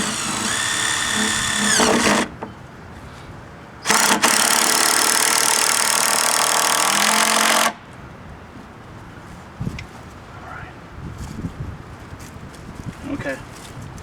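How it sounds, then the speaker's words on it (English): Power drill driving screws into the wooden boards of a raised garden bed, two loud sustained whirring bursts a couple of seconds long, close by, followed by quieter outdoor background. "I'll put a few more screws up top on this side."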